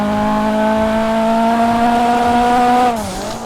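A loud car engine revs steadily in a video game, its exhaust crackling and popping throughout, then the revs drop sharply near the end as the note falls away.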